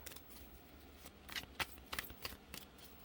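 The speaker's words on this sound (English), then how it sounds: "Let's pull some oracle cards for Taurus Singles." Oracle cards being shuffled by hand: soft, papery riffling in a handful of quick bursts, quiet and close, with no voices.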